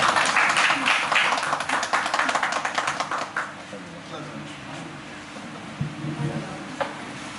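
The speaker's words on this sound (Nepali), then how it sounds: "ताली पनि बजाइदिनु, ताली पनि बजाइदिनु है" An audience claps at a cultural theatre anniversary celebration. The quick patter is dense at first, then thins and fades over a few seconds, with a voice talking over it.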